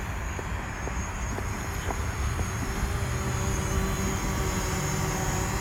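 A camera drone flies over a bridge in Hobart, giving a steady broadband whir with a faint high whine that holds at an even loudness throughout, with no talk.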